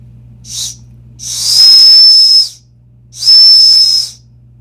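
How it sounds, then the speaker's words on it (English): A cheap whistle built into a Camillus survival knife is blown close up, giving a short breathy toot and then two long, shrill, airy blasts separated by a pause. "and then the whistle, it's kind of a cheap whistle. You have to blow on it just right."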